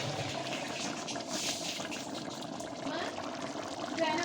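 Soaked tamarind water is poured from a cup into a chicken biryani curry in a pot, a steady watery pour lasting several seconds under faint kitchen background noise.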